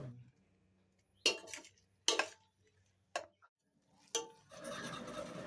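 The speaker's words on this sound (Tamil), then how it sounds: "இப்போ வெஜிடபிள் கிளறி உள்ள மசாலா போட்டதெல்லாம் கிளறி விட்டுட்ருக்குறோம்" A spoon scraping and clinking against a cooking pot while vegetables and masala are stirred, several sharp separate knocks spaced about a second apart, then a longer sizzling scrape, close and fairly quiet.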